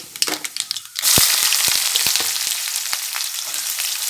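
Chillies drop into a hot pan with egg cooking in it, a few sharp knocks giving way to a loud, bright burst of sizzling that stays strong and steady, punctuated by spatula scrapes.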